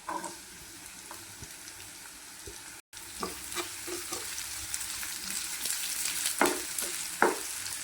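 Garlic and onion fry in hot oil for a chicken sandwich filling, a steady close sizzle with scattered clicks and scrapes of stirring that grow louder toward the end.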